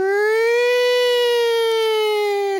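A voice imitates a siren with one long, steady wailing tone that rises slightly, holds and then drops off, loud and close for a few seconds.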